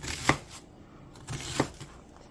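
Knife dicing half an onion into chunks on a cutting board, two distinct chopping strikes about a second apart, fairly quiet and close, with no voices.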